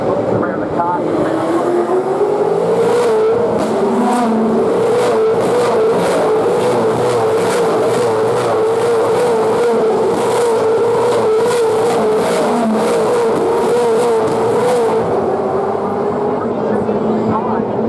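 V8 Supercars race cars at the Gold Coast 600 street circuit in 2015, a loud continuous engine roar as cars pass with rising and falling pitch, a commentator talking over it.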